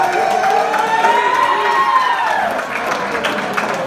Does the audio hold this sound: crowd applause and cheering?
yes